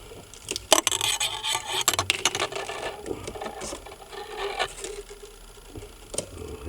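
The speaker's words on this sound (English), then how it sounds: "we are going to cover the whole width of the bobbin" Insulating tape is pulled and wrapped around a small transformer bobbin, making faint, irregular crackling and rubbing sounds close by.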